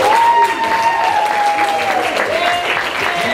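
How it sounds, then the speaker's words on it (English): Audience applause welcoming Denny at a Sunday church gathering, a steady wash of clapping with a sustained tone running through it, loud and fairly close throughout. "we usually welcome Denny with applause because we like him"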